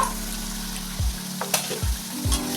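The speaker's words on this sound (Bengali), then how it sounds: "আমার ঝোলটা ফুটে উঠেছে" Mustard-poppy fish curry broth of rohu bubbling in a pan, a soft sizzling simmer punctuated by a few low thumps and clatters of cookware; no one speaks.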